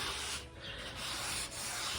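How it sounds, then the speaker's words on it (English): A damp rag rubs whitewash across brick in a living room, making a continuous close scrubbing, swishing friction with slight dips in intensity. "Now he's rubbing down the whitewash with a damp rag."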